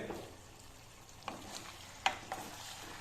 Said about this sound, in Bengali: এগুলোকে একসাথে ভাজতে থাকতে হবে